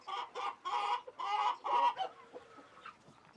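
Chickens on a sustainable farm give a string of five or six loud, close clucking bursts, then fade into softer scattered clucks.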